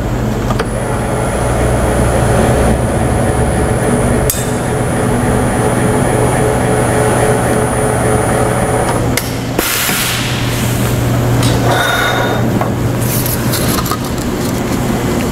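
Roll planisher working a metal tube gives a loud continuous mechanical rumble and whine, with a brief break and clatter midway before the steady drone resumes.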